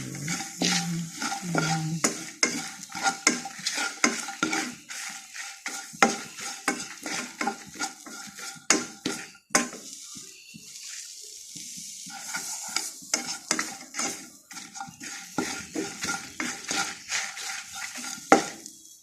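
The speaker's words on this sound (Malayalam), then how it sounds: "നമുക്ക് നന്നായിട്ട് വറുത്തെടുക്കാം" Mint is stir-fried in a pan for podi mutta: a spatula scrapes and clatters in quick, uneven strokes against the metal over a light sizzle, close and continuous.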